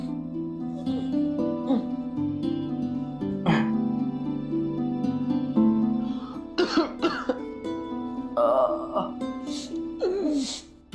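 A person coughs several times in bursts with throat clearing, loud and close, over a steady hum of background music in a Hindi television drama scene.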